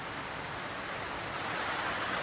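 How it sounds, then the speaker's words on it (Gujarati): Heavy rain pours down in a steady, dense hiss that swells slightly louder toward the end, with no voices over it. "જો વરસાદ કેટલો ફૂલ ચાલુ"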